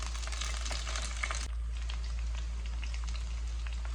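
Onions, green chillies and curry leaves frying in a pan for a bendakaya tomato curry, a constant hissing sizzle with a sudden shift partway through, over a steady low hum, no voices.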